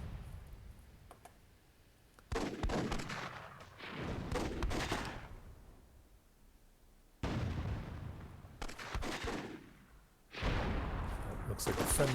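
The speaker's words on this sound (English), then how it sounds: "Looks like a friendly cannon shot there from Stalin." Cannon fire in the video game Myth II Soulblighter, several booming bursts arriving in irregular clusters with quieter gaps between, mid-distance and fairly loud, with commentary voices in the background.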